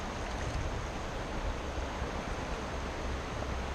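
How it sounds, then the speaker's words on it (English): Water gets dumped out of a gold pan beside the Kern River in Southern California, a steady rushing wash that runs evenly from start to finish with no talking. "We dump most of our water out."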